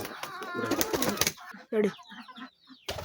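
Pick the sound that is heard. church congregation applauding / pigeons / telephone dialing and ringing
pigeons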